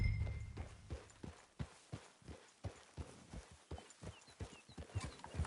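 Horse hooves clip-clop at a steady walking pace in Red Dead Redemption, a clear, even rhythm of dull thuds on the ground, heard alone without speech.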